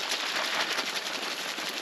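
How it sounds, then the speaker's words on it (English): Cars passing by on a winter road, a continuous broadband whoosh of tires with a steady hiss, moderately loud and alone. "Cars going by."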